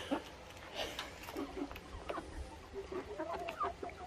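A rooster in an Alaska garden gives soft, scattered clucks at moderate distance over a quiet outdoor background, with no one speaking.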